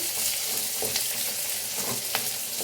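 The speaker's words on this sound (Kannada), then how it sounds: "ಈರುಳ್ಳಿ ಹಾಕ್ಕೊಂಡು ಸ್ವಲ್ಪ ಫ್ರೈ ಮಾಡೋಣ" Onions fry in a pan with a constant hissing sizzle, and a few light stirring clicks stand out over it.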